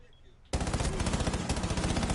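Video game gunfire erupts suddenly after a quiet moment, a loud, sustained rapid automatic burst with fast regular shots continuing to the end.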